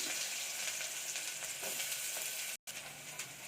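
Onions sizzle and crackle in hot oil with popped mustard seeds, a constant close hissing fry with faint stirring sounds and a brief dropout.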